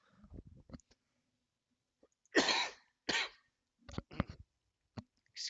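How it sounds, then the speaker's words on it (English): A person coughs harshly in several hard bursts, close and loud, with quiet gaps and small throat sounds between them. "This cough is uh, pretty harsh right now."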